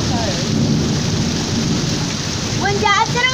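Heavy rain pours down during a Houston storm with flooding, a dense, loud, constant hiss and roar of water on the surfaces nearby. A brief voice cuts in near the end.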